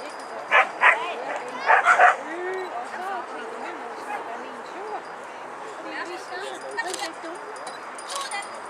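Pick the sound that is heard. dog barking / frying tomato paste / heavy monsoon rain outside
dog barking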